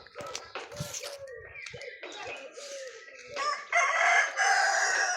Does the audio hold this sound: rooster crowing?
yes